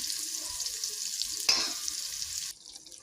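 Steady crackling sizzle of mutton frying in a hot pan with fried onions, with a louder burst midway as the meat hits the oil, then quieter bubbling.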